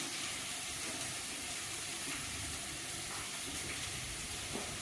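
Onions frying in hot oil in a pan for a Kerala-style soya roast, a steady dense hiss of sizzling, moderately loud and even throughout with no talk.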